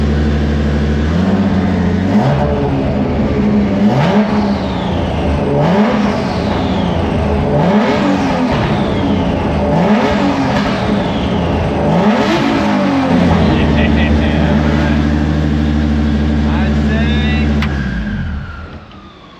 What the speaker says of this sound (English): Car sounds sick.